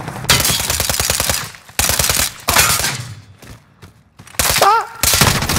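Automatic gunfire from the video game Modern Warfare, loud dense bursts of rapid shots that stop and start several times, with short quiet gaps between volleys.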